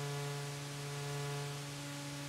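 White noise from an Endorphin.es Godspeed+ synthesizer module hisses steadily across the whole clip alongside a sustained low tonal drone, with no talking.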